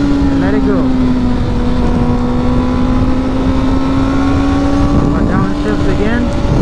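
A manual car's engine during a clutch-in downshift gives a loud, steady droning hum with only a slight change in pitch, and a voice can be heard faintly over it.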